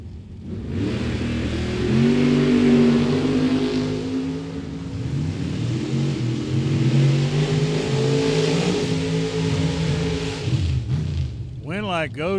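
A Corvette Roadster and a Mustang launching side by side at a drag strip, engines revving loud and close with rising and falling harmonic tones that fade over ten seconds, followed by a brief announcer's voice.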